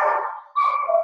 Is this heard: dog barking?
yes